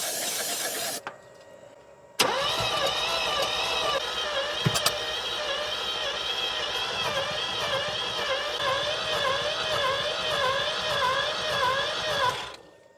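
The rotary engine of an abandoned first-generation Mazda RX7 cranks over for about ten seconds. A rhythmic, whooshing, wavering churn rises and falls with each turn, then stops abruptly.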